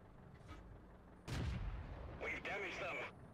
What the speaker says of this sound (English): We managed to put 3 shots into him consecutively.